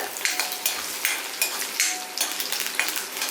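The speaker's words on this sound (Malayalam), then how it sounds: "വെളുത്തുള്ളി ചേർത്ത് കൊടുക്കാവേ." Chopped garlic frying in a pan with cumin for an okra dish, a soft crackling sizzle punctuated by rhythmic clinks and scrapes of a spoon stirring against the metal.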